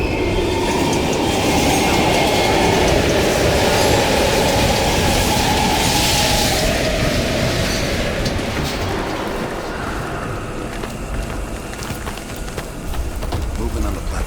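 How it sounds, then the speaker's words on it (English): A train rolls past in the Call of Duty Black Ops Cold War game at an abandoned East German station, a loud continuous rumble and rattle of wheels and cars that slowly eases off, with spoken voices over it. "We can use a train to slip past."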